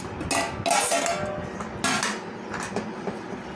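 Eggplant and mango pieces are stirred in a metal pot, producing close, loud clattering and scraping of a spoon against the pot in irregular bursts, with no voices.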